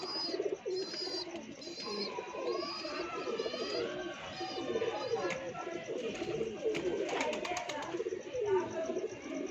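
A pair of pigeons coos close by in repeated soft, throaty rolling calls, with a voice speaking faintly alongside.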